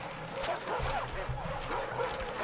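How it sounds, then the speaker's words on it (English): A pack of dogs barks and yips in the fantasy strategy game Majesty 2 as they rush defensive towers, repeated short calls over busy battle noise. "All those dogs running straight at my towers."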